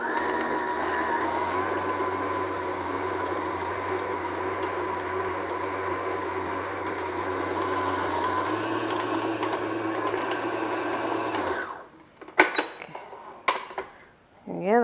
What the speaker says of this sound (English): Just beat this for a couple minutes on medium speed